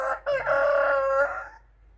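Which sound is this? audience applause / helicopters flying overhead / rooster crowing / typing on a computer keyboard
rooster crowing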